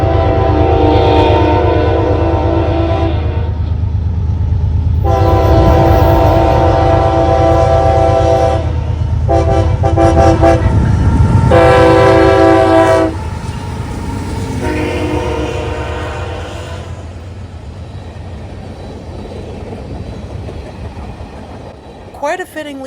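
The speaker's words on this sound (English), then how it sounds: "CSX mixed freight train M636, which runs on a daily basis between Columbus," CSX mixed freight train M636, running between Columbus, Ohio and Selkirk, New York and led by ES44AH 1869, the Chesapeake and Ohio heritage unit, rumbles past close by. It sounds several long horn blasts over heavy wheel and car noise that fades toward the end.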